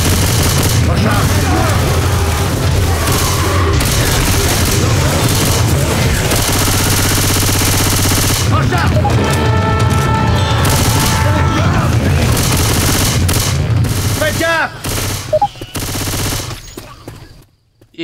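Left 4 Dead 2 gameplay with a submachine gun firing in loud, dense bursts amid explosions, booms and chaotic battle noise, fading out near the end.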